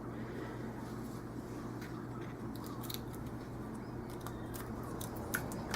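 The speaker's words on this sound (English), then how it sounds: "then I just cut right inside of that line because I wanted to be sure that it fits inside the pocket" Scissors snip through paper along a drawn line in a run of short, crisp cuts, close up over a low steady background hum, with no talk.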